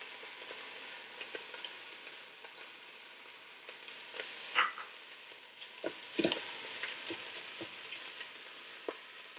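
Chicken fried rice sizzles with eggs in a Ninja Foodi, a soft steady frying hiss broken by intermittent scrapes and clacks of stirring, close and moderately quiet with no talking.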